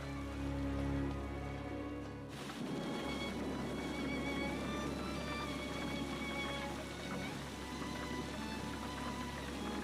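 A wind and rain storm batters a village house, steady dense rain hiss with a low rumbling roar underneath, continuous and loud, following a brief tonal passage at the start.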